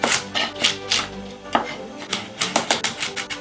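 A blue knife chops rainbow carrots (red, orange and yellow) on a board for cassoulet, giving a quick run of crisp, sharp close-up cuts, irregular at first and then a steady rhythmic series of strokes.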